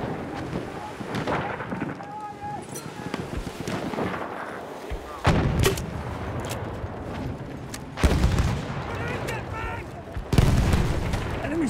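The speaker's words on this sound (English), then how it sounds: "machine gun. One of theirs." Heavy gunfire in the Battlefield 1 video game, with bursts of machine gun fire and sharp loud booms recurring over a noisy battlefield backdrop, a voice briefly speaking amid the shooting.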